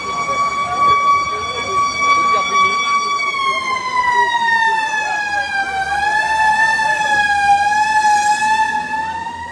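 A fire engine's wailing siren approaches through the streets of Cap-Haïtien during a house fire, its rising and falling tone loud and continuous, with traffic rumble and faint voices underneath.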